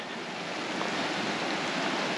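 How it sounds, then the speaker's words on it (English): A crystal clear, icy creek at a Northern California campsite flows steadily nearby, giving an even, close rushing hiss with no voices. "Crystal clear creek."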